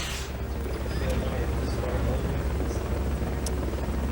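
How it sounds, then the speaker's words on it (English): A helicopter in the Metal Gear Solid: Peace Walker video game makes a steady, loud rotor drone throughout, with a game voice speaking over it. "Fulton recovery subject confirmed onboard helicopter."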